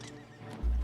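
A horse neighs sharply in Oblivion Remastered, one short, close cry that breaks over a low hum, ending in a sudden loud low thump.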